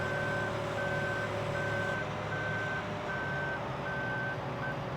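A truck in the video game Farming Simulator 15 sounds a reversing alarm: about seven evenly spaced, steady electronic beeps over a low, continuous engine hum.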